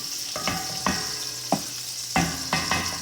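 Salt pork fries in oil in a hot pan, crackling with a steady sizzle broken by several distinct pops and spatters, close and clear without speech.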